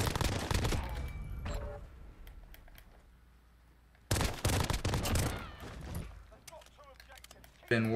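Renetti pistol fire in the Modern Warfare video game comes as bursts of sharp rapid shots, with two loud clusters separated by a quieter stretch and some faint clicks.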